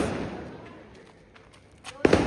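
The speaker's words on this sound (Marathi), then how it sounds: "आता पाऊस पेटते नंतर 2 रॉकेट वरती जाते" Fireworks set off outdoors: a hissing fountain firework crackles at first, then after a lull sharp pops and whooshing bursts of rockets launching upward, close and loud, with voices in the background.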